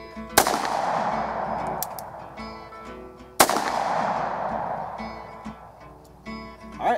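Two loud Bond Arms pistol shots fired at 5 yards during clay shooting, each a sharp blast spaced about three seconds apart, with ringing decay and quieter outdoor rustling in between.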